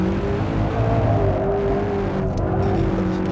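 A 2015 McLaren 650S Spider on a race track, its engine loud and close with a steady droning tone that shifts in pitch as the car slows under braking.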